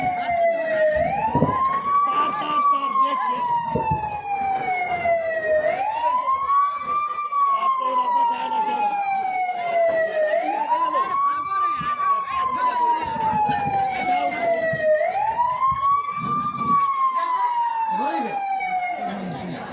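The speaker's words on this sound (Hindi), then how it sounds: "हेलो एम्बुलेंस, मुझे एम्बुलेंस की सहायता की जरूरत है।" An ambulance siren wails in long rising and falling sweeps, repeating steadily and loudly, with voices mixed in underneath.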